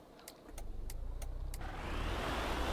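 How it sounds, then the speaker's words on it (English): Renault Master diesel van engine in Euro Truck Simulator 2 gives a low, steady rumble that grows louder over a few seconds, with a handful of short, sharp clicks at the start and no voices. "It sounds like a diesel. Yeah, it honestly sounds like a diesel van."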